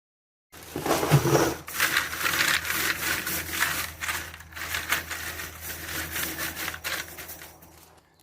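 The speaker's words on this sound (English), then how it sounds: "Let's see if we can fit all 3 boxes of the small screws inside of one 5-gallon container." Small screws from three boxes are poured into a 5-gallon container, making a steady clattering, rattling rush that runs for about seven seconds and fades slightly at the end, with no talking.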